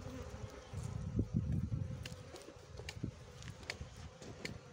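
Wild honey bees hum around their small nest in a narrow hollow, a soft, low, continuous buzzing that swells briefly, with a few faint clicks and taps nearby.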